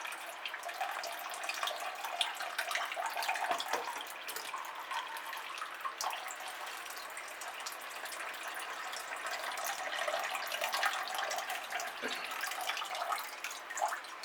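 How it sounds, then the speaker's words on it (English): Water trickles and splashes while orchids in terracotta pots are watered, a steady close pour with soft drips and small splashes throughout. "give it some water."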